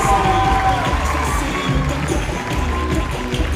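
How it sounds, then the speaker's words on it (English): A loud crowd cheering and shouting continuously at a school faculty recital, a dense roar of many voices with what may be clapping mixed in, close and sustained. "Give a round of applause for OCA."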